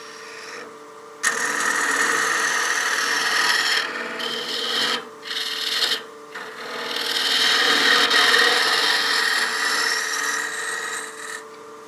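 Wood lathe turning and hollowing a small bat house ornament: a loud, continuous scraping rasp of the tool cutting spinning wood, with brief pauses and dips as the cut eases, then steady cutting again.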